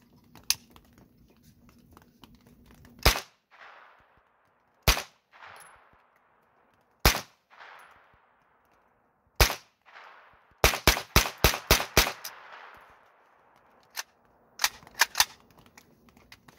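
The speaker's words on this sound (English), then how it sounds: "feels good to get out here and do some shooting" Gunshots ring out during test shooting outdoors: sharp, loud single reports spaced seconds apart, then a quick string of about six rapid shots, with a few more single shots after it and each report trailing off into a short echo.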